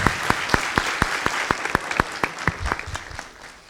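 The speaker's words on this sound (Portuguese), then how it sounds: "Vamos dar uma salva de palmas aqui." Applause from a small audience at a talk about DNS and reverse DNS, with a few distinct hand claps in a steady, moderately quick rhythm that thins out toward the end, fairly close and not very loud.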